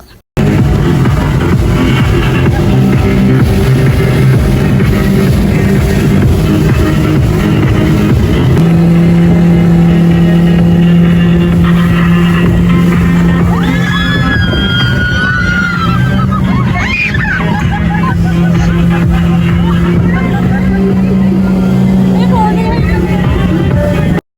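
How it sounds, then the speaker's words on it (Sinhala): A loud, steady speedboat engine drones on Gregory Lake for the whole stretch, with a brief pitch change midway, rushing wind and water, and people chatting and calling out over the motor. "අපි ස්පීඩ් බෝට් එකක ගියා."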